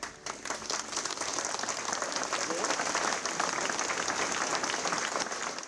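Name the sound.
applause as the coffin leaves the church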